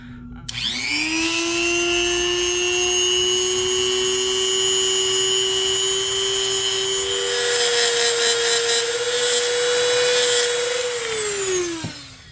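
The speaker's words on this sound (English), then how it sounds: "I'm gonna take a Dremel here and I'm just going to grind off the excess and shave a little bit down where there's some texture" A Dremel rotary tool grinds excess hard resin off snakeskin resin earrings, a loud, steady high-pitched whine that spins up at the start, holds for about eleven seconds with grinding rasps, then winds down.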